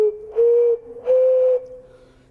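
Handmade whistle played in two sustained, steady-pitched blown notes with short breathy onsets, close and clear, the second note longer before fading into a quiet tail.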